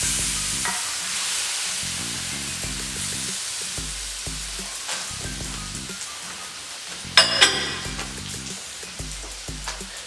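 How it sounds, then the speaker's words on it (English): Vegetables sautéing in a skillet for shrimp and sausage étouffée, a steady close sizzle with intermittent stirring scrapes and a brief louder clatter near the end. "we're gonna let those vegetables kind of saute down a little bit, a little at a time"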